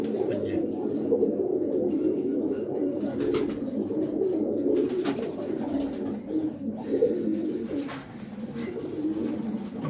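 Feather-footed breeder pigeons in a breeding loft keep up thick, continuous cooing close by for the whole stretch, with a few sharp knocks mixed in.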